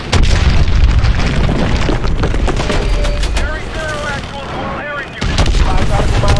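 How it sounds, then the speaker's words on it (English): Fighter jet cannons fire in Call of Duty Advanced Warfare as a loud, continuous rumbling barrage, easing briefly before a renewed burst, with booms and game sounds layered over it. "Getting close and use your guns."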